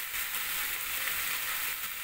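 Prawns frying with a ground spice paste of grated onion and cumin give off a steady, close sizzling hiss, moderately loud and even, with no voices over it.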